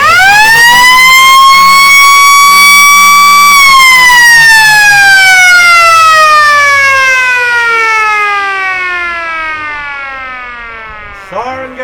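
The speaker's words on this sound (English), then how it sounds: "Siren goes to the Gambane Sports Ground." A loud siren at the Gambane Sports Ground ends the quarter in a Riverina AFL match between the Lions and the Swans. It holds one steady tone, then slowly winds down over several seconds.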